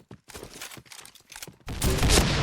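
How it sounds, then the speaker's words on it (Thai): Gunfire in the Point Blank online shooter: a few scattered single shots early, then a loud, dense burst of rapid automatic fire that continues to the end, with no talk. "อันนี้เรายิงนัดนึงข้างล่าง"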